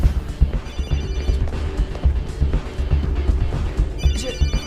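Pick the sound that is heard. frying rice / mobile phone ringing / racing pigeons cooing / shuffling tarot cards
mobile phone ringing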